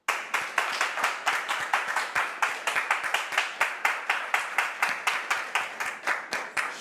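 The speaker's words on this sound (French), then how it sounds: "Et on le reçoit sur ce plateau avec vos applaudissements," A studio audience on a French television talk-show set welcomes a guest with brisk, rhythmic clapping in a steady, even beat, like a group clapping in time, loud and close, lasting about seven seconds.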